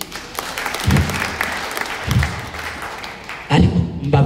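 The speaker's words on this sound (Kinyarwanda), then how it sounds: "Mumere Imana amashyi." A church congregation at an Anglican service claps together, a dense, loud burst of applause with heavy thumping beats that swells again near the end.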